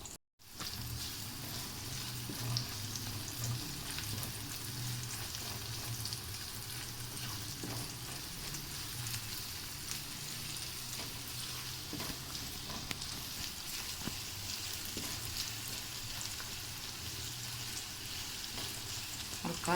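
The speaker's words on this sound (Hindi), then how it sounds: "ये मैंने छोटा सा एक प्याज लिया था जिसे मैंने ब्रेक कट कर लिया था। अभी हम फ्राई कर लेंगे।" Chopped onion fries in a pan with a quiet, steady sizzle and faint crackling, continuous and fairly soft throughout with no voices.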